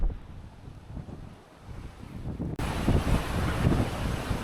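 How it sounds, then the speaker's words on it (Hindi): Strong sea wind batters the microphone atop a view tower at India's southern tip, a soft rumbling buffet that suddenly jumps into a loud, roaring blast halfway through. "भाई बहुत तेज़ विंड है"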